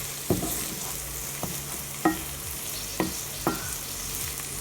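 Jerk egg fried rice stirred in a pan, a low sizzle under five or six distinct scraping strokes of the spatula, close and fairly quiet.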